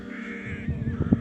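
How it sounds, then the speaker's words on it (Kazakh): A rare white crow chick born in Karasaz gives a few harsh, close caws that rise in loudness toward the end, with no voices. "Қарасазда дүниеге келген қарғаның ақ балапаны."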